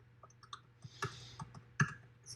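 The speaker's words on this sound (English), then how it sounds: "If someone has microphone enabled and is typing something, please mute the microphone" Faint, scattered keystrokes from a computer keyboard typing near an open microphone during an online class, sounding as soft irregular clicks over a quiet background hum.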